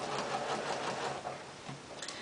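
A sewing machine runs steadily, stitching a straight underarm sleeve seam with the raw edge guided along a 5/8 inch marking, its close, continuous mechanical whir holding for the whole stretch with only slight dips.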